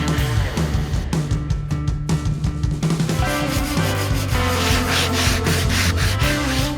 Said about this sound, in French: je prends une fraise à arrondir et je refais une passe sur chaque angle